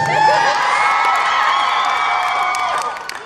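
Audience at a Fantasy Con panel in Salt Lake City in 2014 cheers and whoops loudly in a dense, continuous roar that holds for about three seconds before tapering off.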